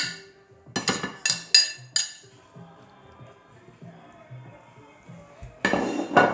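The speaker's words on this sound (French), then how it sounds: "j'étale bien les prunes donc, au fond du plat en question" Plums spread into the bottom of a baking dish for a clafoutis, a handful of bright clinks and knocks of fruit and utensil against the dish in quick succession, then quieter shuffling before another burst of clattering.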